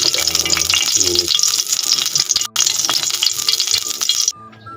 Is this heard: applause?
no